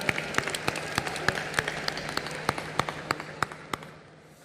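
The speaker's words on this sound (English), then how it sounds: "Round of applause for them, ladies and gentlemen." Audience applause at the closing ceremony of the 53rd International Film Festival of India: a sparse, fairly steady run of individual sharp claps, roughly three per second, over a low hum, tapering off at the end.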